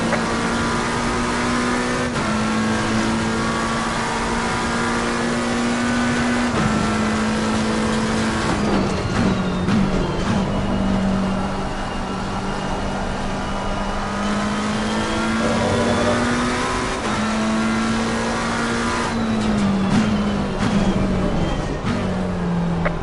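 McLaren 720 race car engines in Assetto Corsa Competizione roar steadily throughout, with a droning pitch that dips and rises through gear changes and nearby cars passing, loud and continuous with no talk.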